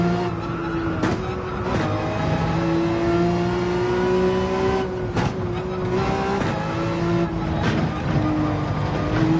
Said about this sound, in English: Oh, that was not the right time to hit the throttle.